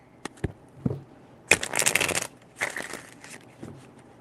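Tarot cards being shuffled in several bursts, with a few sharp taps and riffles early on followed by longer, louder stretches of rapid papery shuffling close to the listener, with no talking.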